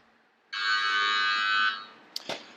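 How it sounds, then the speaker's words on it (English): A single sustained electronic oven timer beep rings for about a second, then fades, followed by a couple of soft clicks. "That lovely, annoying beep that we've got."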